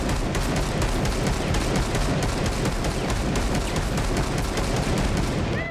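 Rapid, sustained automatic pistol fire in Rainbow Six Siege, a dense unbroken stream of loud gunshots filling the whole stretch with no pauses and no talking.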